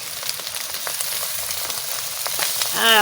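Shop-style chowmein filling frying in a pan gives a steady, close hiss of sizzling with light stirring scrapes, ending in a short high tonal squeak.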